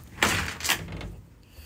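Two quick door sounds, a sliding rattle followed by a thud, close by with no talking.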